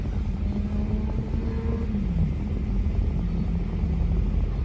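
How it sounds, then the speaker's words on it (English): A motorcycle engine drones steadily and close, its pitch sagging and climbing unevenly as it shifts gears. "he don't know how to shift a motorcycle."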